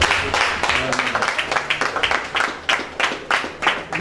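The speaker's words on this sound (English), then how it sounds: "I think Professor Bridget Nwanze and her team deserve a round of applause" Round of applause from an audience at a university event honoring a professor and her team, steady dense clapping with sharper individual claps, fairly close and sustained throughout.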